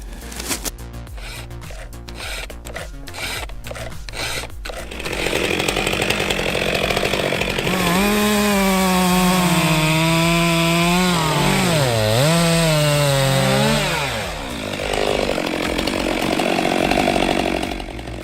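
A chainsaw cuts into a giant tree: clicks and scraping at first, then a loud, continuous buzzing engine whose pitch rises, dips and climbs again as it bites through the wood.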